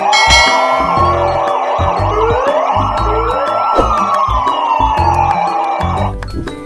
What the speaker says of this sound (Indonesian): Wow, kalau ini mobil polisi.